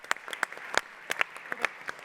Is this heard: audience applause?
yes